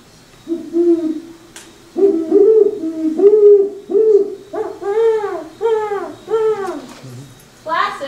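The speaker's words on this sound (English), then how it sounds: "So the great horned owl has a very classic call." A great horned owl hoots, a run of deep, resonant calls in quick groups, close and clear against a quiet background.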